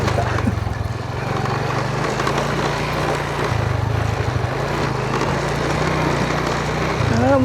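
A borrowed motorcycle engine runs steadily on rocky farm ground, a close, continuous buzzing drone that holds throughout without pause.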